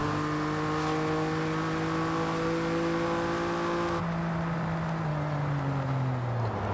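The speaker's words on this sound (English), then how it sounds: "It's a smooth sounding V6." A smooth V6 car engine with dual exhaust in Forza Horizon 5 revs steadily with a rising, sustained drone, then the pitch drops as it eases off, loud and close with no voices.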